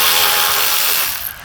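A cheap ratchet loosens 10 mm bolts on a car at a junkyard, giving a continuous close, loud clicking of the pawl that slows and fades near the end.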